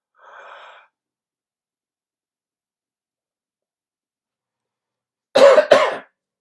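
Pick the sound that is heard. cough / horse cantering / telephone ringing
cough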